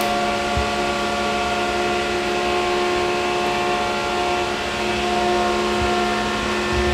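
Engine running on a test rig with its valve cover off, giving a steady mechanical hum with faint valve-train ticking that holds level and close throughout.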